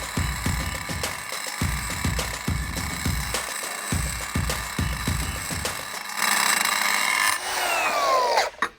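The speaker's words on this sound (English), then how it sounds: "the plan now is to use this wheel to back gouge this plate all the way back to this weld" A grinder wheel back-gouges a weld groove in a steel boat hull plate. Repeated rasping grinding passes come in a steady rhythm, then the wheel whines louder and higher, changes pitch and abruptly cuts off.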